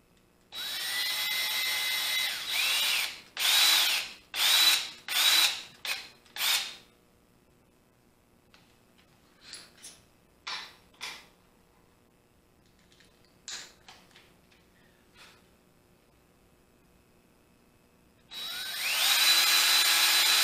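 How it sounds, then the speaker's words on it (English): A power drill bores holes into bourbon barrel wood for a whiskey shelf. Several loud, close whirring bursts come first, then a long quiet stretch with faint clicks and handling, and the drill starts up again at the end. "Drill the large hole first and then the small hole."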